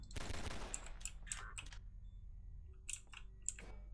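Gunfire in the game Entropy: Zero, with a rapid burst of automatic shots at the start followed by scattered single sharp cracks and clicks over a low background hum.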